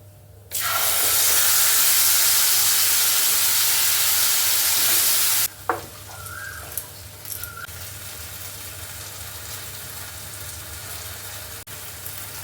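Spice paste for malai paneer drops into hot oil, setting off a loud, bright hiss and sizzle for about five seconds before it falls back to a quiet simmer with a few soft knocks.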